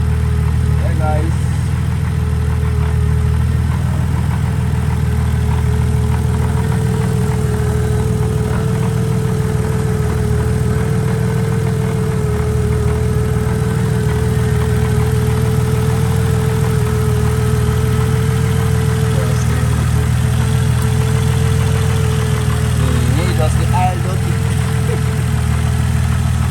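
A car running on a newly installed motor idles steadily and loudly close by, with a constant low rumble and an even hum that holds for the whole stretch without revving.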